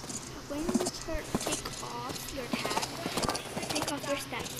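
Hooves of a horse ridden bareback in the video game Mystery Island clip-clop in a quick steady rhythm, heard under continuous talking by a speaker.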